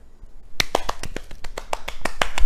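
A round of applause, several people clapping hands in quick, uneven claps that build slightly in loudness, close and alone without talk.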